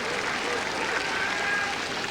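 Broad crowd applause at a 1995 Women's World Cup football match between the USA and Denmark after a goalkeeper's clean catch, a dense steady wash of clapping and cheering from the stands.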